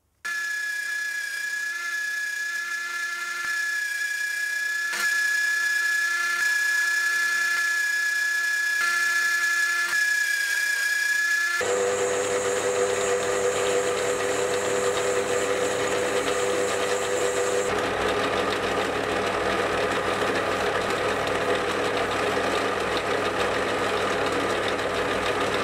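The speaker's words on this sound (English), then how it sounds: "With the flange OD now done, I'll turn a step down for the mount that will lock into the camera." A metal lathe turning a step on an M42 to EF camera lens adapter, a steady whining hum that shifts to a rougher, louder cutting noise partway through and keeps running continuously without talk.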